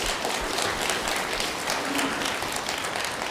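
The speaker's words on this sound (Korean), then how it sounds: "박수로 환영해 주세요." An audience at a Buddhist temple sutra-reading assembly applauds to welcome a monk, a dense, even wash of many hands clapping throughout.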